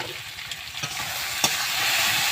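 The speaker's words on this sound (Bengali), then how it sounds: "চলো আমি কচুটাকে ভালো করে ভেজে নিই" Small taro pieces fry in oil with turmeric and salt, a close steady sizzle that swells slightly over time, broken by a few scraping stir strokes and clinks, with no voices.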